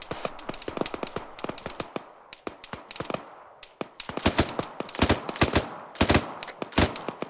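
Automatic rifle fire in ArmA III comes in rapid bursts, close and loud, with clusters of sharp cracks separated by brief pauses.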